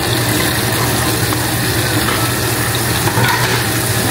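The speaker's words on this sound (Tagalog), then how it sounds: "Konting prito lang." Food frying in a pan on a home kitchen stove, a steady close sizzle with light stirring and scraping that runs continuously without talk.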